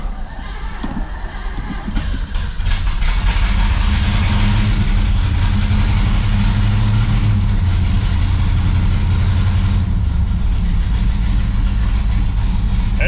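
A 1970 Pontiac Grand Prix V8 with a four-speed catches and settles into a loud, steady, rumbling idle with rough exhaust, running continuously close up.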